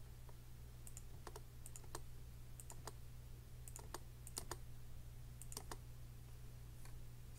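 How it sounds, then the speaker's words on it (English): Fingers type on a computer keyboard, giving quiet irregular clusters of clicks over a steady low hum, heard faintly with no talk. "I'm gonna type live"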